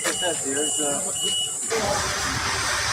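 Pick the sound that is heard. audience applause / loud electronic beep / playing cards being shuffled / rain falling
loud electronic beep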